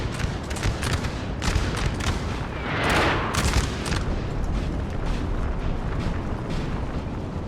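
6-pounder artillery fire in Napoleon: Total War, a loud, continuous rumble of distant cannon booms and crackling volleys that swells briefly midway and stays dense throughout.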